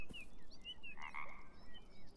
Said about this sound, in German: Ein Frosch?